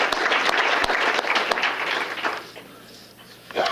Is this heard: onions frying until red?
no